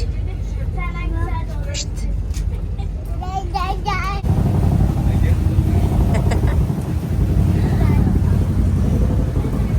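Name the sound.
tour boat starting to move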